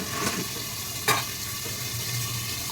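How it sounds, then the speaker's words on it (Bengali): Oil sizzling in a wok with panch phoron spices tossed in, a steady soft frying hiss with a brief louder spatter and stir near the middle, no talking. "কড়াইতে তেল দিয়ে দিয়েছি তারপর পাঁচ ফোড়ন"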